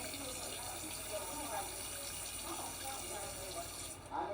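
A sink faucet runs steadily at low level, a continuous watery hiss with faint splashes, as if in a hand-washing station, then cut off near the end, with faint talking in the background.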